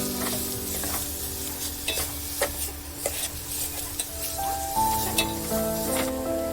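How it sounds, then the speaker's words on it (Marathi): Chili masala spices for misal sizzle and fry in a pan, stirred with repeated scraping strokes and occasional utensil clinks, with no voices. "हे सर्व आपण मसाल्यामध्ये टाकणार आहोत आणि याला छान परतून घेणार आहे"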